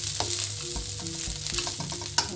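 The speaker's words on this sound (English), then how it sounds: "So now we're back to mixing, stirring everything together" Fried rice stirred and tossed in a hot pan with steady, close sizzling and frying, broken by irregular scraping and clinking of a utensil against the pan and one sharper knock near the end; no voices.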